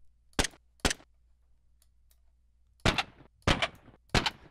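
Five sharp gunshot samples played one at a time at lowered speed in Krotos Weaponizer: two quick shots, a pause, then three more, each a loud percussive crack with a short decaying tail.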